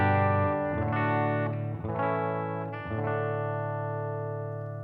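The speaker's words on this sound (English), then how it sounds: "I'll let you hear the clean tone here coming off the Les Paul." Les Paul electric guitar played clean through a Deluxe Reverb amp model, three ringing strummed chords about a second apart, each left to sustain and slowly fade, with no talking.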